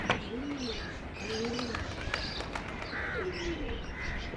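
Training pigeons coo in soft repeated rolling calls, with scattered chirps and faint background noise around them.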